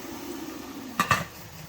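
A lid set onto a pot of boiling water on the stove with a quick double metallic clink, close and brief, over a low steady hum.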